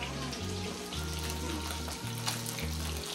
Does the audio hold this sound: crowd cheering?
no